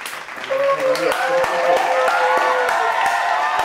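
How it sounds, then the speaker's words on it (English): A small group claps for a chef who cooked Nando's-style peri peri chicken at home, scattered hand claps under loud, excited overlapping talk and laughter. "Clap for her. Guys, clap."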